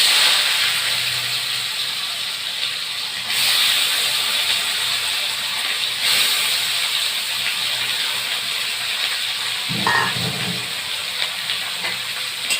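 Chopped potato pieces coated in salt and turmeric frying in hot oil in a home kitchen, giving a steady, close sizzling hiss that holds throughout with no talk.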